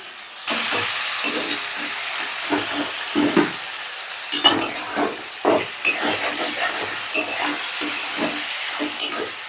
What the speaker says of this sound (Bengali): টমেটোটা একটু নাড়াচাড়া করে নেব